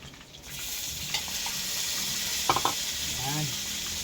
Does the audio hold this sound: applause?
no